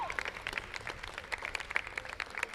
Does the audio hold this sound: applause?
yes